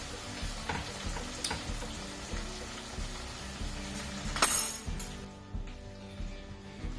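Chilli and garlic prawns sizzling in a hot pan, a steady frying hiss with scraping and stirring as they are turned over, plus a brief clink, close and continuous, with no talk.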